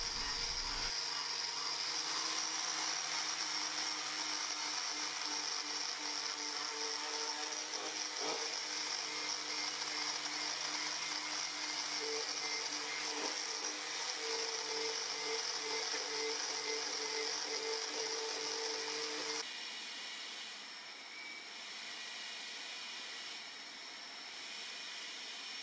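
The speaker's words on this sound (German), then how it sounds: "wird mit einer Filzscheibe und einem Poliermittel die Oberfläche poliert" A felt polishing wheel with polishing compound works an aluminium sheet, giving a loud, steady high whine with droning motor tones that run unbroken for most of the time, then drop to a quieter level near the end.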